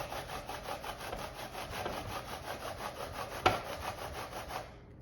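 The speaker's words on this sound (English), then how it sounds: "I'm going to go ahead and just grate the whole thing" Squash is grated by hand in steady, rhythmic rasping strokes, about two per second, close and fairly quiet, with one sharp knock midway before the scraping fades out.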